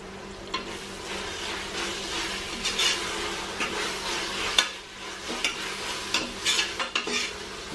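Ginger garlic paste sautéed with mint and coriander leaves for country chicken biryani: a moderate sizzle overlaid by scattered spatula scrapes and clicks against the pan, growing busier in the last seconds.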